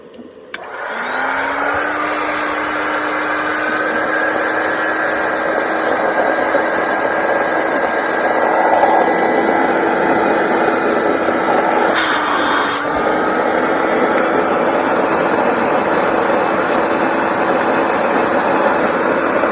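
An electric air pump inflating an air mattress drones loudly and continuously, a steady whirring hum with a brief sputter midway, no voices.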